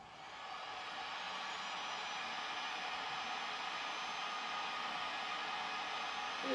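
A hair dryer on a low setting blows on a damaged GoPro 8 lens, producing a steady, close, even whoosh of airflow that runs continuously without pause.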